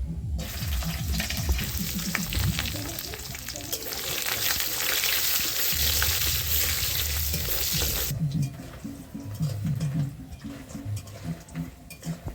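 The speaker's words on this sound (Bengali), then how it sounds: "বড়িগুলো ভাজে নিচ্ছি।" Lentil dumplings (bori) fry in a pan of oil for spinach curry, a loud continuous sizzle with stirring scrapes that drops away near the end, leaving quieter crackle and clatter.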